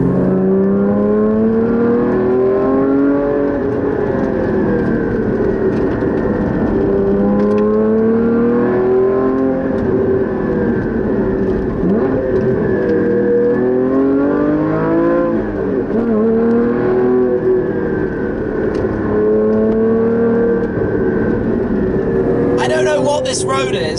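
A classic car's engine drones loudly from inside the cabin on a winding rally road, its pitch rising and falling with the bends, and the throttle varies steadily throughout.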